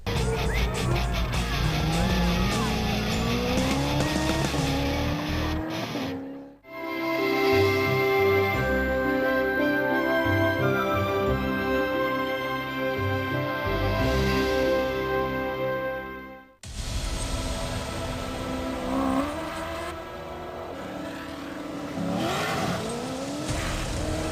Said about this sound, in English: the guys who took on the dunes in a South African-built Nissan race car